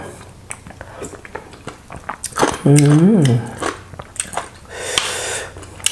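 Someone eats a spicy Thai papaya salad with fresh and cooked shrimp by hand, making close crunchy bites and wet chewing. Someone talks over it, and dishes clink now and then.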